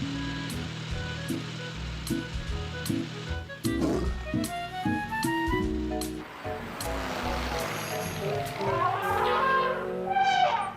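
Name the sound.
lion roaring in a cartoon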